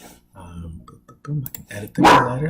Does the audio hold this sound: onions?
no